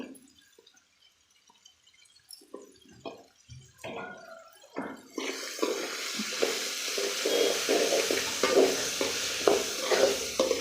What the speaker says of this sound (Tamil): ஒரு தக்காளி சேர்த்திக்கலாம் நம்ம இதில் ஒரே ஒரு தக்காளி